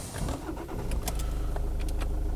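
A 2006 Kia Sportage with a 2.0 CRDI diesel engine starts up, a short crank followed by a steady low idle rumble settling in close by, with a few light clicks and rattles on top.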